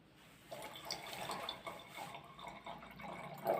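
NaOH solution is poured into luminol in a glass flask, making a faint, soft trickle of liquid that runs for a few seconds in a quiet room.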